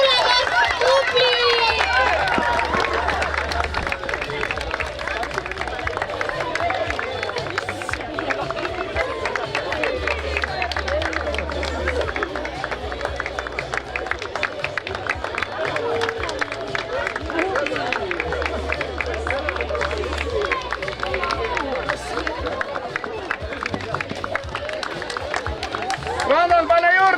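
Crowd at the finish line of the Kullamaa 37th May run children's races, applauding and cheering the first young runners as they arrive: a dense, steady wash of clapping and hubbub lasting throughout.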